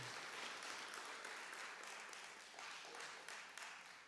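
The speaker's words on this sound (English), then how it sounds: "Big round of applause." Audience applause fills the hall at a school spring sports and language awards ceremony, a dense, even wash of many hands clapping together, heard faintly and at a distance, sustained without a break.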